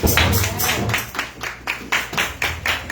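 A church congregation claps hands in praise in a steady, rhythmic beat of about a dozen even bursts. The clapping fills the room and is heard alone, without speech.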